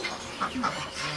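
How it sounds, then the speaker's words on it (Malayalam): A native country duck gives a couple of short quacks against a low background murmur, fairly close. "ഇത് നാടൻ താറാവ്"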